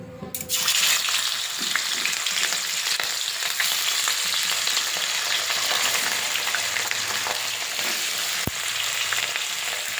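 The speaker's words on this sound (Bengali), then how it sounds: "কড়াইটা গরম হয়ে গেছে, এবারে মাছগুলো দিয়ে দেবো।" Fish sizzling steadily in hot oil in a kadai for dahi katla, a dense continuous frying hiss with small pops, close and loud throughout with no voices.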